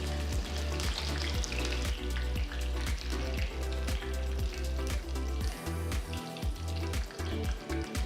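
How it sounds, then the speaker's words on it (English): Coriander leaves deep frying in hot oil give a dense, loud, steady sizzle with crackling bubbles throughout, continuous and close with no talking. "I'm going to deep fry some of these coriander leaves"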